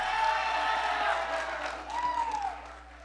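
Church congregation at a morning service cheering, whooping and clapping, a loud crowd swell that eases off briefly before another cheer rises, with voices mixed in.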